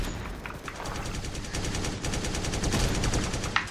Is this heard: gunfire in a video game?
yes